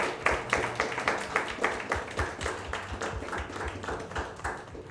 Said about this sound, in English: Round of applause for all these guys